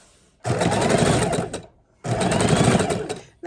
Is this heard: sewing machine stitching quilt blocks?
yes